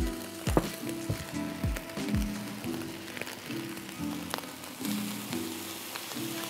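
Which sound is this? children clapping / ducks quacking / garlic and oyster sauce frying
garlic and oyster sauce frying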